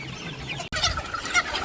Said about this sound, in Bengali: এদিকে মুরগি ধরা চলতেছে একটু দেখাই আপনাদের